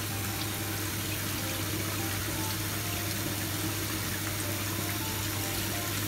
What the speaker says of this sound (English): ang water dito naiinom automatically sa tap